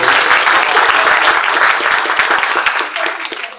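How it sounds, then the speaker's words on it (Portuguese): Loud audience applause at a corporate event, dense clapping from a group that stays strong and thins slightly toward the end. "Esse aplausos aí."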